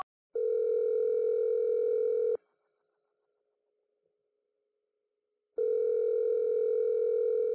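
Telephone tone in the video game Saints Row (2006): two long, steady electronic rings separated by a silent pause, clear and alone.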